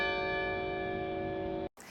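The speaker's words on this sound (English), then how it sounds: "the bells of Orton Tower have now made over a century of students and alumni feel welcome at Ohio State" A large tower bell of Orton Tower at Ohio State sounds one long, sustained resonant chime with a rich ringing hum that fades slightly before breaking off.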